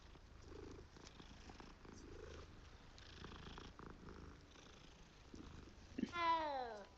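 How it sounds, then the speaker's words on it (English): A cat purrs in the Hogwarts Legacy video game, a steady low purr running under quiet game ambience, ending with a brief louder rising call. "Hey, kitty."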